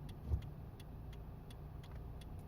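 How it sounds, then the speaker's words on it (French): A 2003 Toyota Yaris TS engine idles quietly with a low, even hum and faint regular ticking from the mechanics, no voices present. "même au ralenti on a ce petit bruit de la mécanique"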